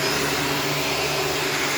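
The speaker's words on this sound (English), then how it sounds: "I'm vacuuming all the hair up right now" A Shark vacuum cleaner with a self-cleaning brush roll runs steadily while picking hair off a floor, giving a loud, constant motor whine and broadband airflow roar throughout, with no talk.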